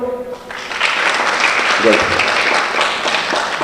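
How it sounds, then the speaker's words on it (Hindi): Audience applause fills a lecture hall at a school event in Nowshera, starting after a brief voice and building into loud, dense clapping that holds steady, with a faint voice briefly heard beneath it. "जरा सब लोग अपने लिए ताली बजाओगे?"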